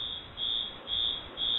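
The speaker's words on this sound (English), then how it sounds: "Oh, there's an alarm." A high, piercing electronic alarm tone pulses steadily, three long beeps with short gaps, loud and close over faint background noise.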